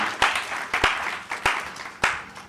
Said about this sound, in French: Let's clap for the King of Kings and the Lord of Lords.